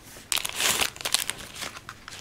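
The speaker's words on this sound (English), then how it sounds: "But yeah, I'm gonna open this up." Paper crinkles as a mail package is opened, a close burst of crisp crackling and rustling that comes in irregular bursts.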